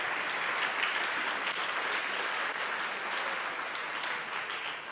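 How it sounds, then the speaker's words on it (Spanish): A church congregation applauding during an evening service, a loud, dense and continuous wash of many hands clapping together that holds steady for the whole stretch. "Démosle palmas."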